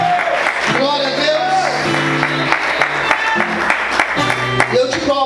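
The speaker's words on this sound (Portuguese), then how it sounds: "Você pode aplaudir Jesus" A church congregation applauds during worship, scattered clapping and cheers mixed with loud sustained music and singing tones, the crowd noise sitting under the stronger musical sound throughout.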